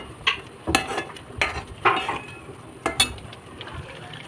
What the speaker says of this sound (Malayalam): ക്യൂബ്സ് ചേർത്ത് കൊടുക്കാം കേട്ടോ നന്നായി ഒന്ന് മിക്സ് ചെയ്യാം